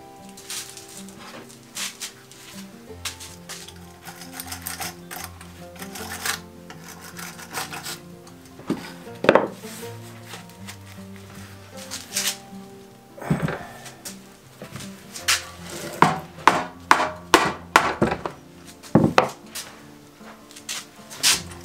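A Brill Ideal Luxus 38 hand reel mower has its spindle spinning. A steady rasping whir runs throughout, and toward the end a series of sharp metallic clicks and rattles gets louder and closer.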